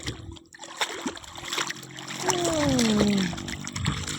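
Water splashing and sloshing as Dang, a large dog, is bathed in open water, with irregular close splashes and trickles under a child's and adults' talking.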